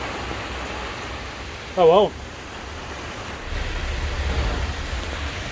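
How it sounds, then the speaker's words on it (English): Light rain falling outside a caravan, a steady soft patter and hiss under a brief spoken phrase, growing a little heavier toward the end. "It's raining out there. Just a bit."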